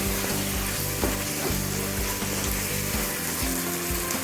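Mushroom noodles stir-frying in a pan with tomato sauce and ketchup, a steady close sizzle with rhythmic scraping and stirring strokes running through the whole stretch, no voices.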